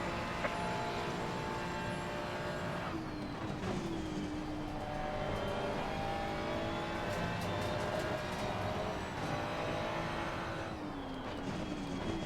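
A Ferrari race car in Assetto Corsa Competizione roars continuously, its engine pitch climbing and dropping through gear changes over a dense, loud, steady mix of track noise.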